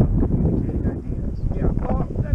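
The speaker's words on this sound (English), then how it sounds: "It's just really windy." Steady cold wind at Big Bear buffeting the microphone, a constant low rumbling roar with rustling texture throughout.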